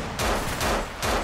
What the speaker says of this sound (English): I have a Mac 10 and I'm not afraid to use it